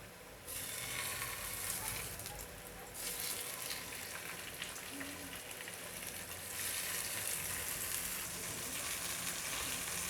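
Salted fish (fesikh) sizzles in a pan with a little oil, a steady close hiss with slight surges as the pieces are turned, and no one speaks.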